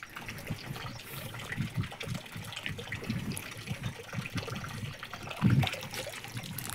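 Sarja the bull drinks water, giving faint soft trickling, lapping and slurping sounds that run continuously, with a slightly louder gulp or splash near the end.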